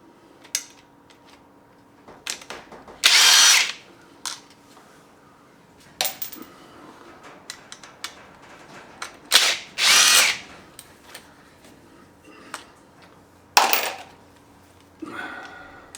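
A power tool works on the engine sump of a 2011 Honda CB400SF NC42 with a valve crash, giving short loud whirring bursts between quiet pauses and small clicks of parts and tools.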